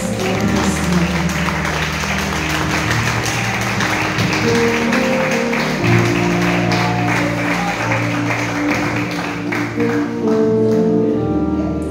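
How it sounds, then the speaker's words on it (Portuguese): A church congregation applauding during a worship service, loud sustained clapping blended with lingering music and voices, continuous for several seconds. "As palmas."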